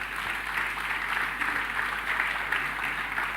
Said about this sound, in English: Please, can you clap for yourselves?